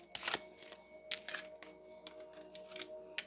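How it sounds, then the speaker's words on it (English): Large oversized Love Answer Oracle deck cards being shuffled by hand, giving a series of soft, papery riffling bursts at an uneven rhythm, close and fairly quiet, with no talking. "They're really big. They're hard to shuffle."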